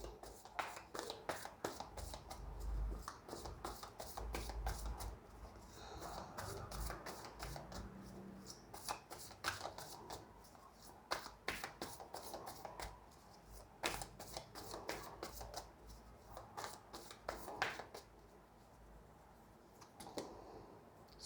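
Tarot cards are shuffled by hand in repeated quick riffling bursts, close and fairly quiet, with crisp flicks and taps recurring steadily over a long stretch.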